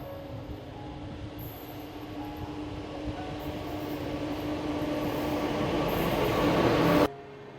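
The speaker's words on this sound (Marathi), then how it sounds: "सो चला, ट्रेन पण डिपार्ट झाली आहे" A train departing from a station platform, a steady rumbling roar that slowly builds louder as it pulls away, then cuts off abruptly near the end; no talk.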